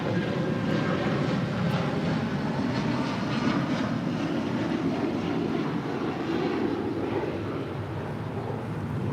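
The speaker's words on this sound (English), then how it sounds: "This is United Airlines 1076 departing to New York on a 757-200" A United Airlines Boeing 757-200 departs LAX for New York, producing a loud, continuous jet engine roar that stays steady throughout, easing only slightly near the end, with no voices present.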